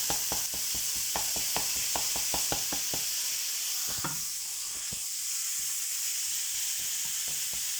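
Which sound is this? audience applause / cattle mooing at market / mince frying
mince frying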